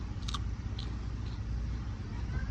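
Raw okra picked in a garden, bitten into with a couple of sharp crisp crunches near the start, then faint chewing under steady outdoor background noise.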